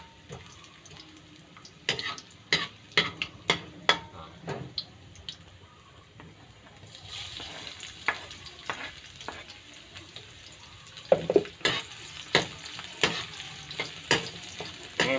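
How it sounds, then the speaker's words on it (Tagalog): Garlic sautéing in hot oil in a pan, a low continuous sizzle broken by frequent sharp clinks and scrapes of a utensil against the pan, close up and without speech. "Ngayon papakulahin natin ang bawang"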